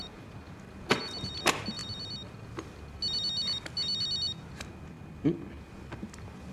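A telephone rings in a French comedy film scene, with repeated electronic trilling bursts and a few sharp clicks and knocks between rings, fairly close and alone without talk.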